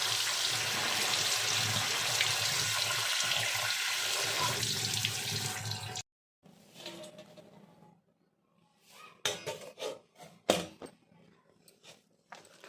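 Water is poured over grains in a sieve basket to rinse them, giving a loud, steady rushing splash for about six seconds that stops abruptly, followed by scattered wet clatters and drips.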